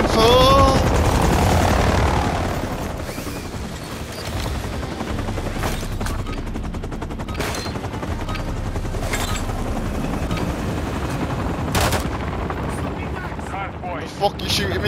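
Call of Duty gameplay with a continuous roar of helicopter rotor and engine noise, rapid gunfire bursts mixed into the din, and a few sharper cracks standing out, all loud and close throughout.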